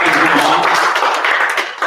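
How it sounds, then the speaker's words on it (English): Audience applause for a presenter named Brady at a business school event, a dense steady wash of many hands clapping throughout, easing slightly toward the end. "everybody give Brady a round of applause"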